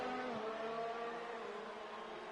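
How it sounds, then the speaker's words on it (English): A Ferrari Formula racing car in a PS4 racing game bangs against its rev limiter, producing a continuous harsh, buzzing engine drone that holds steady and loud for the whole stretch with no talking. "we still got that awful rev limiter sound from that Ferrari"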